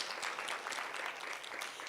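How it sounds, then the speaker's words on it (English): Audience applause at a social media bootcamp, an even, continuous patter of many people clapping, quite faint and distant, with no voices over it. "Another round of applause, please."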